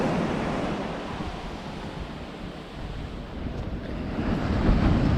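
Ocean surf rolls onto a beach on New Zealand's West Coast, a broad continuous wash of breaking waves mixed with gusting wind across the microphone, swelling louder toward the end.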